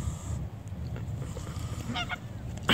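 A goose honks near a small home during a trip back, with a few sharp calls over steady low background rumble, rising to a louder burst at the end.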